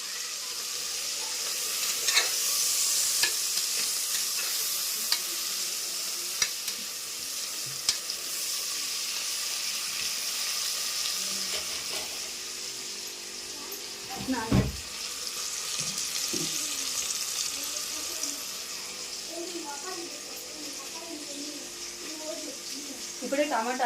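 Tomatoes and bay leaves frying in a pan in a home kitchen, a steady close sizzle throughout with occasional clinks and stirring scrapes, and no voices.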